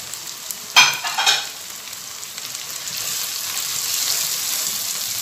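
Radish and spinach fry in a pan with a steady sizzle that swells toward the end, broken early by a couple of sharp stirring scrapes; close and moderately loud, with no voices.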